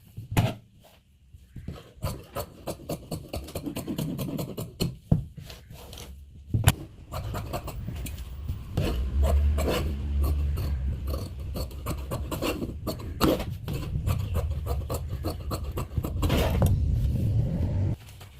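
Blouse fabric is cut for the front piece with a run of close, rasping snips and rustles that turn into a steadier scraping toward the end.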